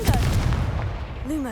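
Confringo, an explosive fire spell cast in Hogwarts Legacy, goes off as a loud, booming blast that carries through the whole short moment, with a swooping magical tone rising near the end.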